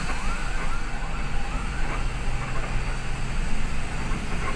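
An ambulance siren wails steadily in the distance over a constant rumble of traffic and engine noise, heard from a bus on the road to Medan, Indonesia.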